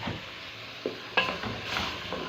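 Tomatoes are stirred into onions frying in a pan. There is a quiet, soft sizzle with a few scraping clicks of the spoon against the pan.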